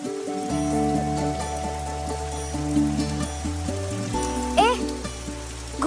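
Rain falls in a steady hiss under a film scene from Baaghi, mixed beneath sustained background music tones with no clear talk.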